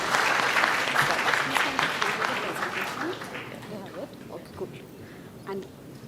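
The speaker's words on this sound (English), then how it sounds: "A big round of applause for Depriya" An audience at a company's 25th anniversary celebration breaks into applause, loud and dense at first and then thinning out to scattered claps as the room quiets, with some talk under it.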